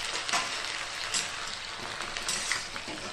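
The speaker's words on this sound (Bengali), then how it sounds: "তো আমি দেখুন এইভাবে করতে করতে ফ্রাই করে নিচ্ছি।" Vegetables fry in hot oil in a home kitchen for a Bengali vegetable curry, a steady close sizzle with occasional brighter crackles and spatters throughout, no talking.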